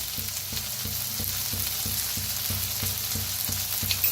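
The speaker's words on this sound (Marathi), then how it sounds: "आता छान भाजलेले आहेत टमाटर, कांदा, कांद्याची पात, त्याच्यातच टाकूया हळद, तिखट" Tomatoes, onion and spring onion roasting in a pan with turmeric and chili, a loud continuous sizzle broken by regular rhythmic stirring scrapes about twice a second, close and without voices.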